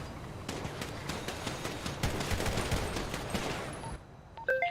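Rapid bursts of gunfire in a GTA roleplay game, a dense volley of overlapping shots for about four seconds, then a few sharp electronic blips as the firing stops.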